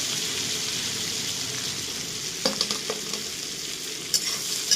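Beans and onion fry in a pan with a steady sizzling hiss, joined by a few quick clinks and scrapes of a stirring spoon toward the end.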